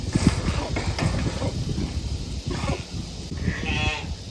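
Sheep bleat and snort in a pen amid scattered rustling and shuffling, with a few sharp nasal bursts standing out.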